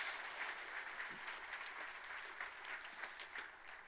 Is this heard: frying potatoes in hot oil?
no